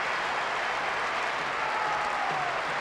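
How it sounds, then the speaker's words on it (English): A stadium crowd applauds a goal in the football game PES 2009, a dense, steady roar of clapping and cheering that holds at an even level throughout with no commentary heard. "All the spectators up on their feet applauding."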